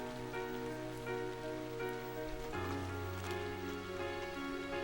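Rain ambience in the video game Trails of Cold Steel, a soft steady patter falling in the town of Trista beneath sustained tonal game music that shifts chords midway.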